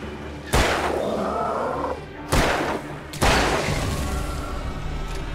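Three loud, booming gunshots in Alan Wake at a train yard, each followed by a long rumbling tail, spaced unevenly over several seconds.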